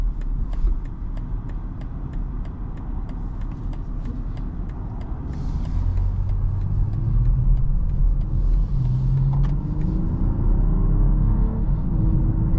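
A 2024 BMW X7 40i SUV taking a corner, heard from inside the cabin: steady low engine rumble and road roar, swelling a little as the engine pulls through the bend, with faint ticking in the background.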